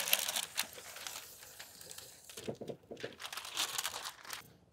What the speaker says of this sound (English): we will pull the release paper down